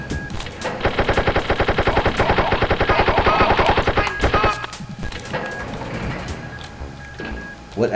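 Rapid machine gun fire in the shooter Wolfenstein rattles close and loud in a fast continuous burst for about four seconds, then gives way to scattered shots and game noise.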